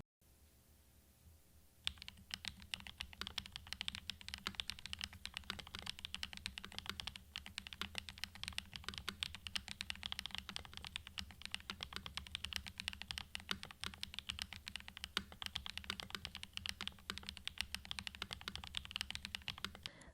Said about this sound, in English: This keyboard has become my daily driver, and of course I love the way that it sounds. Take a listen.